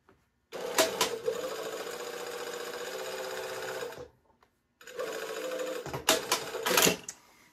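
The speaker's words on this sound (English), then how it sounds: "And now I'm going to sew those shoulder seams again." A domestic sewing machine runs two steady bursts joining the shoulder seams of a shirt dress at a 5/8-inch allowance, with a quiet pause between and sharp clicks and thumps of handling the fabric.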